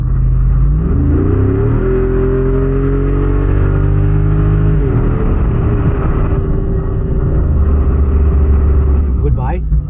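A 2025 Jeep Wrangler Rubicon 392 Final Edition engine revs loud and close, its deep rumble climbing and holding at higher pitch before dropping back, then surging again with continuous throaty droning.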